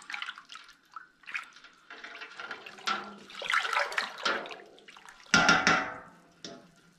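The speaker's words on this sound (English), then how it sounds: "I'm simply now going to give this a stir around" Tomato puree being stirred into water in a pot, close sloshing and swirling liquid in irregular waves, with one louder splashing surge near the end.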